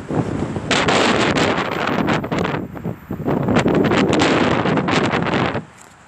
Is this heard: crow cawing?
no